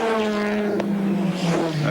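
A damaged touring car races at the 1992 Bathurst 1000, its engine droning loud and close with a strong steady tone that shifts in pitch as it holds speed.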